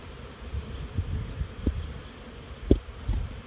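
A low, steady hum of honey bees buzzing close by in a hive being smoked, with occasional soft knocks and rustles over it.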